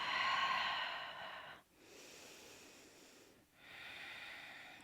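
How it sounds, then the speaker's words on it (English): Slow, steady breathing during a seated chair yoga session: one long airy exhale, a pause, a softer inhale, then another drawn-out exhale, close and fairly quiet. "Stay with that slow and steady breath."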